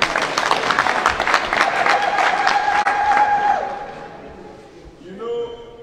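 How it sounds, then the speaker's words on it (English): Crowd of voters at a political campaign meeting in a constituency in Nigeria clapping and cheering loudly for several seconds, then the applause fades out, followed by brief murmuring. "Clap for yourself."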